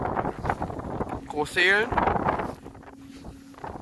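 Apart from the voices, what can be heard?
wind at a wind farm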